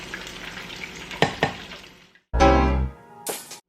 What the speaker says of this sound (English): So you're gonna let it cook down until it begins to get thicken.